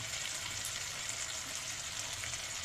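Spice paste of garlic, ginger, turmeric and chili frying in a pan, a soft continuous sizzle and crackle, steady throughout with no talk.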